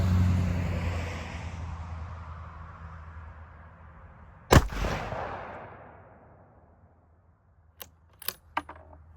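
A single loud, sharp report from a Bergara B14 rifle firing 165 grain rounds at an outdoor range, followed by a fading echo and then a few small metallic clinks and clicks of the action.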